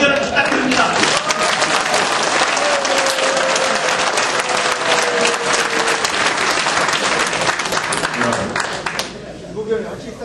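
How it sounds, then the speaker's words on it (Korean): Loud, dense applause from a large crowd at a political party rally in Daegu, North Gyeongsang, sustained for about nine seconds before thinning out, with a voice carrying over the clapping. "여러분 우리 김부겸 의원에게 뜨거운 박수로 격려를 부탁드립니다"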